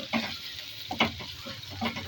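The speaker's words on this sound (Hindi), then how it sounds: "साथ ही साथ यहाँ मैं रेडी कर रही हूँ तड़का" Tadka of oil and spices sizzling in a pan, with a few louder bursts of crackle and stirring scrapes over a steady frying hiss, heard close up with no talk.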